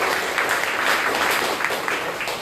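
Congregation applauding inside a church during an evening worship service, a dense, steady wash of many hands clapping throughout with no voices on top.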